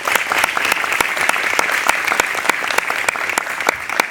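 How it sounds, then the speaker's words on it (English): Audience applause at a speaking event at a recording arts school, a room full of people clapping in a dense, steady wash of individual claps for about four seconds, with no talk over it. "could we please have a round of applause for Mr."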